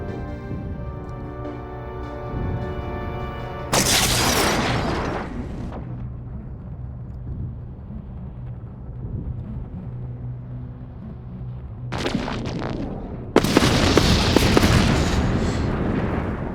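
Missile launches and flak fire in the space strategy game Endless Space 2 arrive as loud crackling bursts over a steady low drone, with two separate intense volleys and a quieter rumbling stretch between them.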